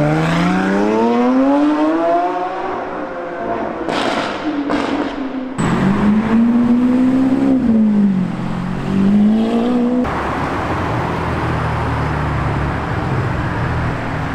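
A Lamborghini Sián FKP-37 hybrid supercar on a London street, its engine rising and falling through loud revs and shifts, up close and alone before fading into steady traffic noise.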